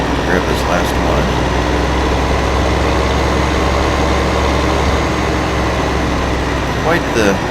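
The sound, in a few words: tractor engine idling in video game Farming Simulator 15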